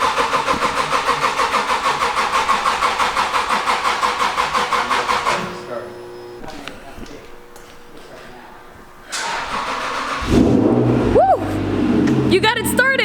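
An Acura NSX cranks with a fast rhythmic starter churn for several seconds, falls quiet, then the engine catches and settles into a loud close idle, with voices talking over it near the end.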